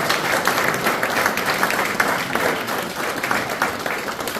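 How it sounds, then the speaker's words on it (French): A ceremony audience applauds in a steady, dense wash of clapping that is loud and close and lasts the whole time. "on vous applaudit avec les associations."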